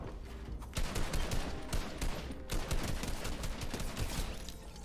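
Airstrike gunfire in a video game: dense, rapid bursts of shots and impacts rattle continuously, loud and close, with a brief dip midway before the barrage resumes.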